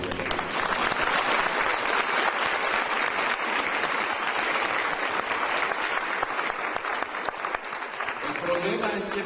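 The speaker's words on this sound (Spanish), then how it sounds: "Dale un aplauso a Dios." A church congregation bursts into sustained applause for God during an Easter Resurrection service, a thick, loud roar of clapping that stays steady for several seconds before easing slightly as a voice begins to rise near the end.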